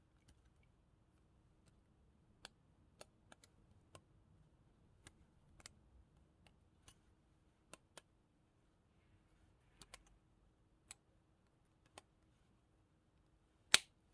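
A plastic pinion gear in a robot kit is pressed into place, giving a scattered series of small, sharp clicks and ticks over a quiet background. The loudest snap lands near the end.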